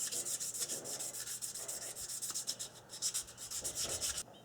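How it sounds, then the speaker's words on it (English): Sandpaper in the 800-grit range rubs over an aluminum motorcycle part in quick, rhythmic back-and-forth strokes, a close, soft, scratchy hiss that pulses with each pass before stopping abruptly. "I'll just use this sandpaper until I don't see any of the sanding marks that were left behind"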